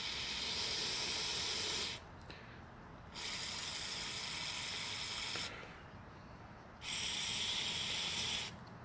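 Parts cleaner sprays from an aerosol can into an airsoft gun part in three loud, close hissing bursts, each lasting one to two seconds, separated by short pauses.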